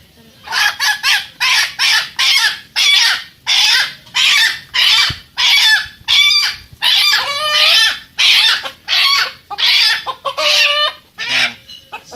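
Chickens clucking loudly in a fast series of bursts, with a rooster crowing partway through, close and continuous.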